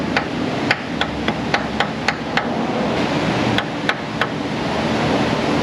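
Heavy hammer tapping a seal into a transmission housing in an auto repair shop, a run of sharp metallic strikes at an uneven pace, some quick pairs, over steady background noise, with no talking.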